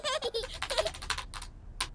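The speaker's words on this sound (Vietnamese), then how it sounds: "Peppa và George rất thích nhìn mẹ làm việc trước máy vi tính." Fast, close typing on a computer keyboard in a home setting: rapid clusters of crisp key clicks, a brief pause, then a few more taps.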